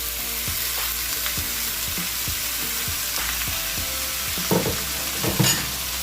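Marinated pork belly fries in a pan with a steady sizzle, while intermittent clicks and scrapes of stirring come through and grow louder near the end.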